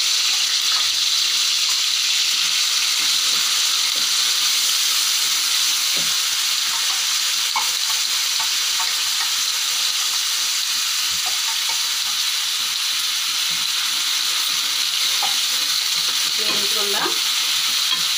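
Ginger garlic paste frying in a hot pan while being stirred, a loud continuous sizzle with scattered scraping of the utensil, close up and without voices.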